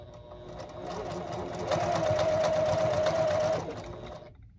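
A sewing machine with a 1/4 inch foot runs a seam on an Ohio star quilt block, a close steady mechanical whir with rapid needle ticking that rises, holds, then stops.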